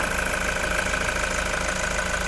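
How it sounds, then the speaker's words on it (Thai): The 3.0-litre diesel engine of a 2016 van idles with its engine bay open, giving a steady, even, close hum with a faint mechanical clatter and no talking. "ตอนนี้สตาร์ทเครื่องอยู่นะคะ คุณลูกค้าสามารถฟังเสียงเครื่องยนต์ได้เลยค่ะ"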